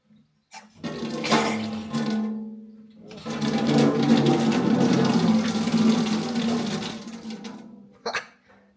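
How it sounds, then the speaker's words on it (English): A water pump on a chopped L300 van setup hums as it pushes water through hoses to a tap, starting with a brief burst, then a long, steady rushing flow before cutting off, fairly loud and close. "I put 3 litres of water in. Turned the pump on."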